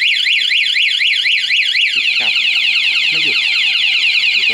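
Honda MSX motorcycle anti-theft alarm sounding loudly up close, a rapidly warbling siren that switches into a steady shrill tone with some beeping, alone without talk.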